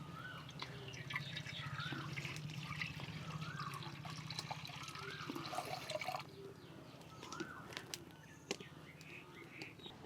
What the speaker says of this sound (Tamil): இதுக்கு முதல்ல தண்ணியை விடணும்.